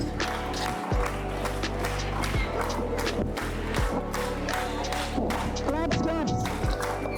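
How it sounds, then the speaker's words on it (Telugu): An audience claps at a gathering during a bus journey event, with a steady patter of hands continuing under a busy mix of crowd noise and voices. "క్లాప్స్"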